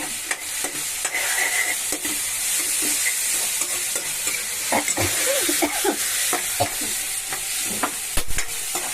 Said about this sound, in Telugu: టమాటా ముక్కలు, ఇవి కూడా కొంచెం వేగనిద్దాము